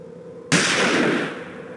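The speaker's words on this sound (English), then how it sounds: "The gunshot seems to have frightened him off." A single sharp gunshot in the Murder on the Orient Express adventure game cracks out loud and close after a low hum, then fades into a long rumbling decay.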